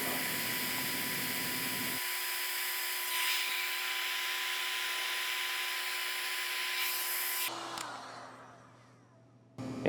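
A heat tool warms a crimped wire connector on the wiring of a Dewalt 735 thickness planer during a motor and switch replacement, giving a steady close whirring hiss that shifts in tone, then winds down and stops near the end.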